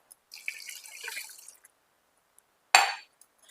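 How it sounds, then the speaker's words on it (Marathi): Water is poured from a glass over potatoes in a pot for boiling, a close splashing pour lasting about a second, followed after a pause by a sharper, brief splash. "आता एवढ्या बटाट्यांसाठी आपण चार ग्लास पाणी ओतणार आहोत"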